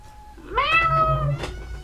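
A house cat gives a clear, close meow that rises and then falls in pitch, followed by a short second chirp, with no talking.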